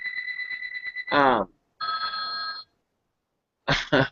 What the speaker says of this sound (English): I apologize for the ringing of that phone in the background